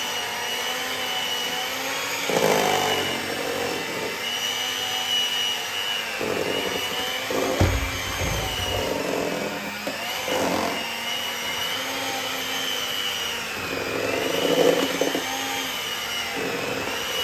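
Electric whisk beating homemade beard butter: a loud, continuous whirring motor drone that swells and dips as the beaters move through the mixture, steady across the whole stretch with no talk.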